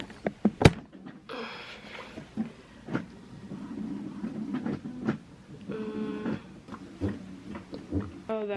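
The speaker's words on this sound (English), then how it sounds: "Let's go print this stuff off." A printer runs pages through with mechanical whirring, clicks and feed clunks, steady and moderately close, with occasional sharper knocks.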